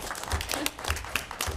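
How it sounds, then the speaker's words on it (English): Attendees at a Placer LAFCO commission meeting clap after a vote, a brief spatter of applause from a modest crowd in a meeting room, fairly quiet and steady. "Thank you very much, and we should clap again."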